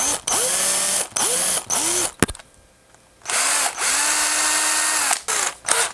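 A cordless drill runs a 1/8 inch bit through a soft plastic bass worm tail floater, boring a pilot hole in several loud bursts with whining speed ramps, broken by a short pause before drilling resumes.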